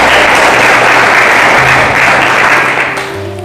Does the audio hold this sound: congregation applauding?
yes